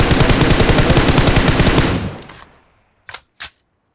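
A dense, loud burst of rapid automatic gunfire in the mobile game BGMI runs for about two seconds and fades, followed by two separate, sharp single shots.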